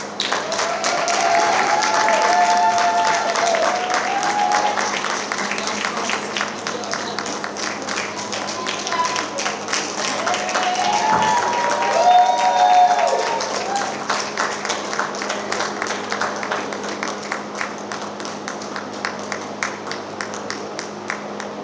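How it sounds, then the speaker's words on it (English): Audience at a band camp showcase applauds steadily and loudly, dense clapping sustained for about twenty seconds, with a few voices and faint tones mixed under it. "let's give it a clap"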